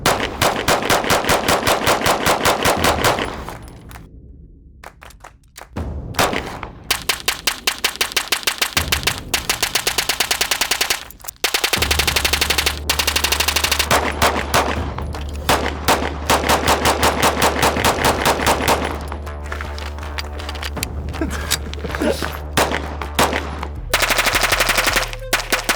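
Rapid full-auto bursts from a gun fired in back-to-back strings of magazine dumps, loud, near and sustained, with brief pauses between strings.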